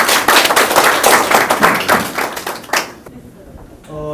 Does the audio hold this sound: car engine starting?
no